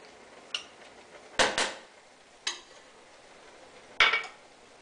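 A spoon stirs red wine and tomato paste into a pot of hunter's stew, giving sharp scraping and clinking knocks against the pot in a few scattered bursts over a quiet background.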